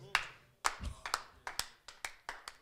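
A congregation at a prayer gathering in Montréal claps in acclaim, sharp hand claps landing in a loose, slightly uneven steady beat, close and clear with no voices over them.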